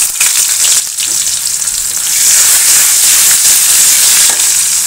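Fish roe frying in a pan with chopped onion and salt, giving a loud, steady, close sizzle that swells slightly midway, with no voices.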